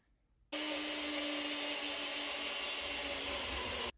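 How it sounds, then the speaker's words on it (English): A kitchen blender runs in one steady, loud burst of about three seconds, pulsing ingredients for a recipe, starting and stopping abruptly with no talk. "pulse it in the blender for a few seconds"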